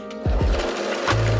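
Overlocker sewing machine finishing the edges of a child's ruffled summer dress skirt pieces: a couple of quick thumps, then a steady loud motor whir running continuously up close.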